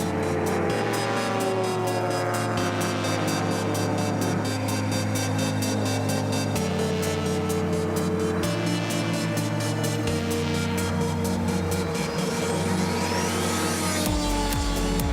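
Race cars, including an orange Datsun, roar through a turn on a circuit, a loud, steady engine drone with shifting pitch as cars pass one after another, no voices.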